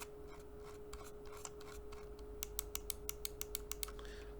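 Scroll wheel of a Genesis Zircon 550 wireless mouse turning, a close, quiet run of evenly spaced ticking notches that speeds into a regular clicking rhythm over a faint steady background hum.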